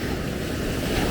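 Sea waves wash steadily onto a sandy Mexican beach, a continuous close surf roar mixed with wind buffeting the microphone, with no voices.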